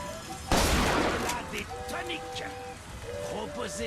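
Gunfire in Bioshock Infinite: a loud, sharp burst followed by a long noisy tail. Faint game sounds and music-like tones continue after it.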